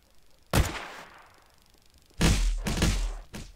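Gunfire aimed at the player in Garry's Mod DarkRP: a single sharp shot, a pause, then a quick burst of several loud close shots with ringing tails.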